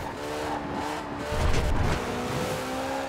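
A Ferrari LaFerrari races in Forza Horizon 4, its engine droning steadily with a swelling rev midway, close and continuous with no talking.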